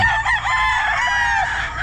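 Roosters crow loudly and close by at a busy pet market, one long crow filling the moment with other fowl clucking around it.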